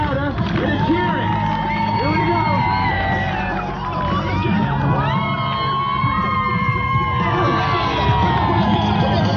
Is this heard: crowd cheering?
yes